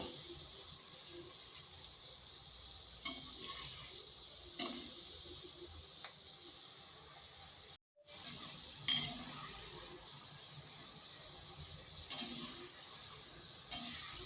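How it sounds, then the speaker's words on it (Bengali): Palm fritters (taler pitha) frying in hot oil, a steady soft sizzle with occasional clicks of a utensil stirring, with one brief gap. "এগুলোকে এইভাবে হালকা বাদামি কালার করে ভেজে নেব"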